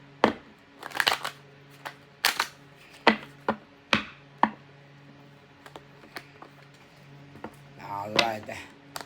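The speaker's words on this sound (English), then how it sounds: "Hold on, I want to shuffle my cards." Tarot cards being shuffled by hand at close range, a series of sharp riffling snaps and taps in irregular bursts with brief pauses, ending in a longer rustling flurry, over a quiet steady background hum.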